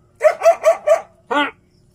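A dog barks four times in a quick, even run, then lets out one longer, louder yelp after a short pause. The barks are close and clear with no talking over them.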